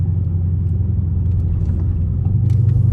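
A Dodge Charger RT V8 idles with a steady, deep low rumble that swells slightly toward the end, loud and close, with no talking.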